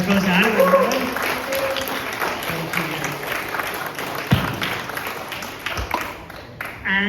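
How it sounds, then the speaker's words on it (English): An audience at a Silicon Valley AI tech meetup applauds, a moderate steady patter of many hands mixed with voices and room noise, easing off toward the end. "Give a round of applause to Adam."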